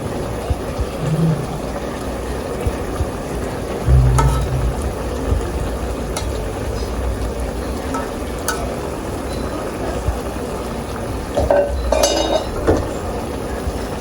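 Cheua river fish chorchori curry sizzles and fries in a pan while it is stirred, a low, steady frying hiss with occasional scraping and clinking of the spoon against the pan.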